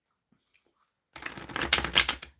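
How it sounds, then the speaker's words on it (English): Tarot cards being shuffled vigorously by hand, a dense burst of riffling and flicking that starts after about a second of near silence and stays close and fairly loud to the end. "Now I'm going to shuffle really good for the"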